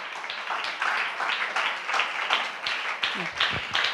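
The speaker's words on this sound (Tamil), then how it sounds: "நல்ல தலைக்கு மேல கூட கைத்தட்டி தேவனை மகிமைப்படுத்துங்களேன்." Church congregation clapping hands overhead in praise during a Tamil worship service, brisk rhythmic group clapping at a steady beat that continues throughout, with a brief low voice near the end.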